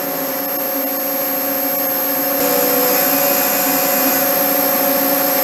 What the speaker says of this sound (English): it's doing some air machining where there are already pockets